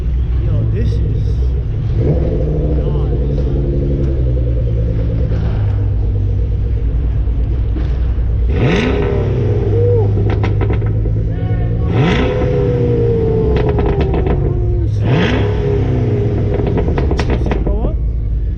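A Lexus IS300 at an underground car meet revs its engine in three sharp rising bursts over a steady loud idle rumble, with people talking around it.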